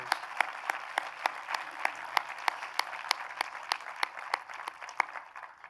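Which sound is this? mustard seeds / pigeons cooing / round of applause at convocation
round of applause at convocation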